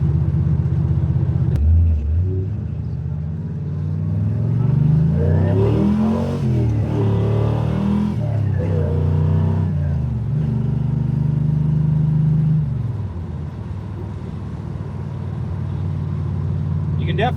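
A 1968 Chevelle with a 502 big-block accelerates on a test drive, its engine droning low and steady from inside the car, swelling mid-run and then easing off, with people talking over it.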